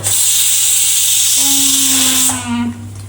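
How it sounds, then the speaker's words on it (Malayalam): A loud, steady hiss of steam rises from a freshly cooked batch of biryani made without oil or ghee, with a faint tonal whine running beneath it before the hiss tapers off. "അതിന്റെ ആവി മൊത്തം കളയുക"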